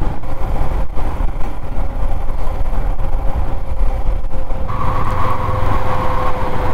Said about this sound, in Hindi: अब बाइक ही नहीं ढंग से चल रही है, कूद कूद के बाइक चल रही है